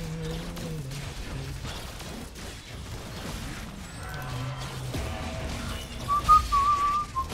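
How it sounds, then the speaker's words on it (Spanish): A person whistles a few short, wavering notes close by, against a quiet background with faint mechanical clicks and soft noises. "a veces algo molesto el silbido en los vídeos de YouTube"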